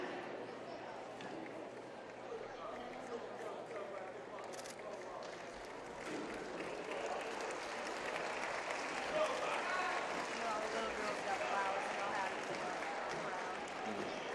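Crowd applause at a high school basketball game's senior recognition, sustained clapping and cheering that swells and holds in a large gym.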